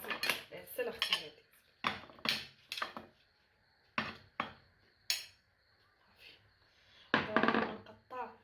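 A knife cuts through a sweet watermelon in a series of close, sharp crunching slices separated by pauses, some strokes clacking against the board, with someone speaking at times.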